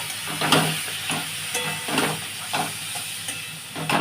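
Chopped tomato, green chillies and turmeric frying in a pan, a soft continuous sizzle with rhythmic stirring strokes at regular intervals, close by and without speech.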